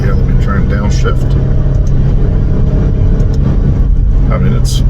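A 2020 Alfa Romeo Stelvio Quadrifoglio's engine drones loudly from inside the cabin during a manual downshift. A voice talks over the steady engine noise, with brief tonal rises.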